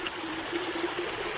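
Ice House Canyon Creek, a mountain stream, flowing with a steady close trickle and gurgle of water over rocks, continuous and moderately loud.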